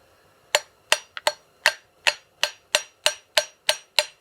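Eleven crisp, evenly spaced hammer taps strike the body of a Showa piggyback-style motorcycle shock from a 2002-2007 Honda CR250, each a sharp close metallic tick with a brief ring, delivered lightly and alone.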